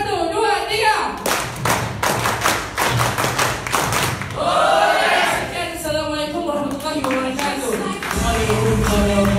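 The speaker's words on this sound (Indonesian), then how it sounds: "Tepukan Mxb, 1, 2, 3!" A group at a company event at Mxb-Bop HQ Tower claps together in unison on a count, a run of loud, evenly spaced sharp claps followed by cheering voices, with talk before and after.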